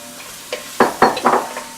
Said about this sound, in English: we just want to give that a good stir to soften up the vegetables